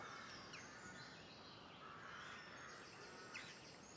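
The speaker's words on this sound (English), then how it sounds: "Hear rooks, carrion crows, jackdaws." Rooks, carrion crows and jackdaws calling outdoors on a countryside walk to High Hat, with scattered faint, distant caws and chirps over a steady open-air hiss.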